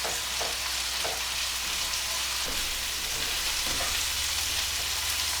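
Cube steak sautés in a pan, a dense, loud, continuous sizzle like heavy rain, with a few faint utensil scrapes underneath and no talking.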